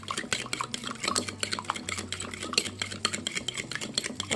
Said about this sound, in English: here's the eggs. Beat them up, beat them up.